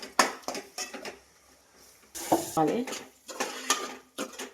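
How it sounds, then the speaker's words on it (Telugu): Turmeric stirred into mutton curry in a pan, with a spoon scraping and clinking against the metal in irregular bursts over a faint sizzle, heard close and fairly quiet with no talking. "తగినంత పసుపు వేసుకోవాలి. ఒకసారి కలుపుకోవాలి."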